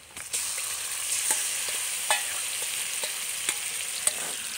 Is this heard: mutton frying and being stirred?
yes